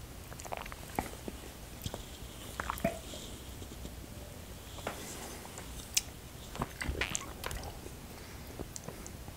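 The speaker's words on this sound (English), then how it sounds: "Let's see what happens when you add a bite of chocolate." Someone bites and chews a piece of chocolate taken with whiskey, producing soft, close wet crunches and squishy mouth sounds scattered over several seconds of quiet.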